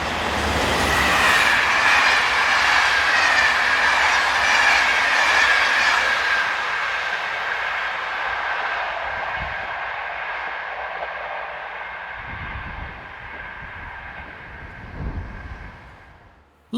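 Electric locomotive 26036 hauls the 17:37 Paris to Cahors train through a station, a loud roar with high wheel squeal and clatter that fades gradually as it passes.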